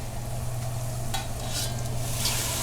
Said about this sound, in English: some beautiful Girol oyster mushrooms I'm just going to stir fry